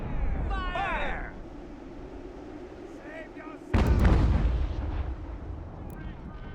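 Artillery and musket volleys in the strategy game Ultimate General: American Revolution, a loud booming blast landing midway and rumbling on after an earlier stretch of battle noise, with a voice calling out before it.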